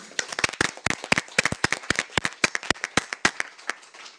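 Audience at a Jeju peace forum session on UNESCO's role clapping to welcome the speakers: sparse, distinct hand claps at close range, fairly quiet, with no voices.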